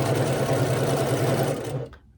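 A sewing machine chain pieces a quilt seam at a scant quarter inch, running in a steady, fast, close whir for almost two seconds before it stops and the motor winds down.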